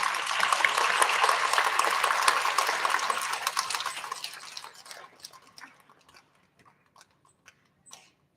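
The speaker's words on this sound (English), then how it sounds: "Let's give a nice big round of applause for our UPK friends." Applause for young students at a school recognition ceremony comes from a crowd, with dense, lively clapping for several seconds that thins out to a few scattered claps.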